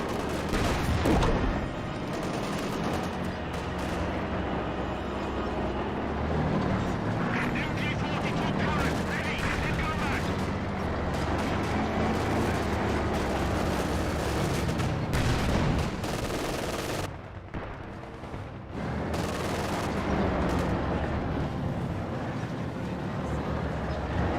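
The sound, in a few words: gunfire on the ground in the video game Company of Heroes 2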